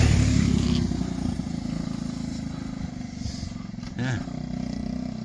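A 1969 Honda Z50 minibike engine runs steadily with a buzzy, continuous drone, dipping and picking up around a gear change, while a person speaks briefly nearby.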